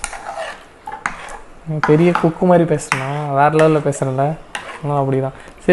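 A spoon scrapes and clinks in a pot as thickening wheat halwa, a Tirunelveli-style sweet, is stirred. Scattered stirring noises sit mostly under steady close talk from a speaker.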